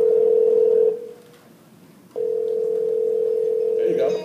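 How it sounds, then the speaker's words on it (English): A steady electronic ringback tone plays on a call from a Tizen phone: two long tones with a short pause between them, loud and close, and a voice starts at the very end. "It's dialing."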